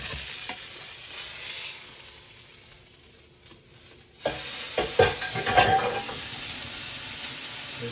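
A burger patty for a sourdough jack sizzling on a hot surface, with quieter frying hiss at first and then louder spatters and scraping clatter of a spatula, no voices.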